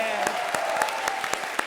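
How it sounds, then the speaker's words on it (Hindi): Audience applause on a comedy stage show, energetic dense clapping with sharp accented beats at a regular rhythm, like rhythmic clapping along to music, over a sustained tone. "जोरदार तालियां मेरे बच्चों के लिए।"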